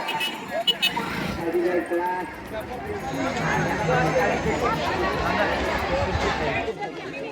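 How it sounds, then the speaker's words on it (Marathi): Dense crowd chatter fills the Yallamma Devi temple fair in Jat, a continuous babble of many voices close and far, with scattered louder calls rising over the steady hubbub throughout. "डबल ट्रिपल गर्दी आज खूप जास्त गर्दी"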